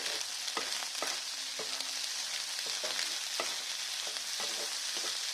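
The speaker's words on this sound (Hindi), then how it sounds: "अब मैं स्प्राउट को भी थोड़ी देर अच्छे से भून लूंगी।" Sprouts being stir-fried in a pan, a steady soft sizzle under repeated sharp spatula scrapes and taps that come every second or so, close but fairly quiet.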